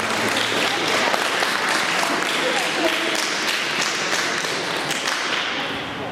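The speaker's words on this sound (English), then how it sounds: "Can you give our contestants a round of applause?" A crowd applauds contestants at a church gathering with dense, loud clapping that holds steady and fades slightly toward the end, with some voices mixed in.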